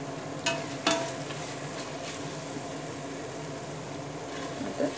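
Coriander, mint leaves and fried onion being stirred into tomato masala in a pressure cooker for chicken biryani, an even close sizzle with a few soft clinks of a spoon early on.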